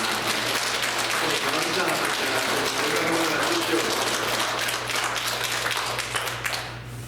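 Easter service congregation clapping together inside a church, a dense, steady wash of applause running loud for about seven seconds before tapering off at the end.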